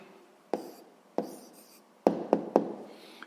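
A pen writing down an answer to a sixth-grade math problem, several separate scratchy strokes and taps on paper in short bursts, close and quiet with pauses between them.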